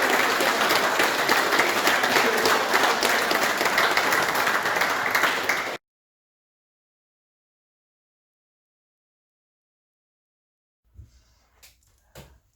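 A round of audience applause at a Warhammer 40k tournament in Kent, steady dense clapping for about six seconds that then cuts off abruptly into silence, followed by a couple of faint knocks.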